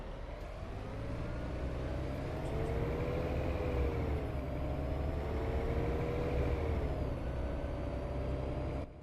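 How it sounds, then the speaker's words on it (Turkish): A Mercedes Citaro O530 city bus engine in OMSI 2 runs steadily throughout, with rising and falling tonal whine as it accelerates and shifts, a continuous near drone with no talk. "Motorun sesi bayağı iyi geliyor yalnız ha"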